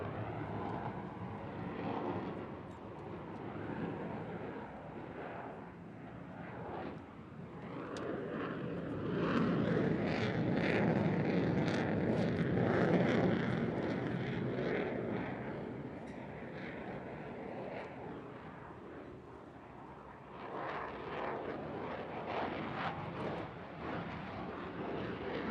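An F-35C fighter jet flying a slow high alpha pass at a July 4th air show, a distant engine roar that swells to a broad rumble midway and then eases off, heard alone.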